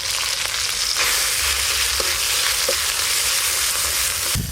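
Tomatoes frying with ginger, cumin and green chilli paste make a loud, close, continuous sizzle with faint stirring scrapes, no voices.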